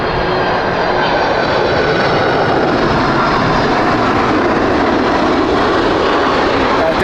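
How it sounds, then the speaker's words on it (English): A Delta Boeing 767-400 jet landing from Atlanta at Heathrow, a loud, steady engine roar with a broad rushing rumble throughout, a voice talking over it. "Delta 767-400 coming in from Atlanta."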